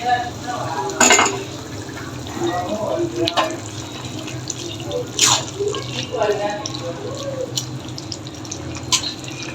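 Water poured from a tap into a pot of cooking bottle gourd curry, splashing bursts and trickles up close, separated by stirring and clatter, with a voice speaking quietly at times.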